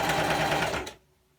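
A sewing machine stitches a 5/8-inch seam on the sleeve of a T-shirt dress, giving a close, steady, rapid whir for about a second before it abruptly stops, with no talking.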